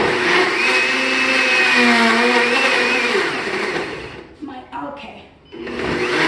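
Kitchen blender pulsing an onion mixture for sweet and sour meatballs, a loud steady whirring roar for about four seconds that stutters and cuts in and out, then resumes, with a brief spoken word over it.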